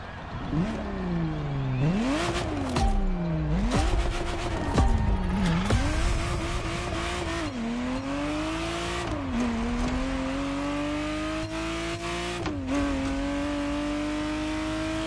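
A Ferrari Testarossa in the racing game The Crew Motorfest revs hard again and again, its engine note sweeping up and dropping back in repeated loud surges that run steadily the whole time.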